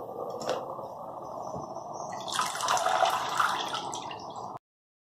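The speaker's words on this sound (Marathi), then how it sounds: "पाणी उकळायला ठेवले." Water runs and splashes steadily into a pot being set on to boil in a home kitchen, a close, continuous pour that stops sharply after about four and a half seconds.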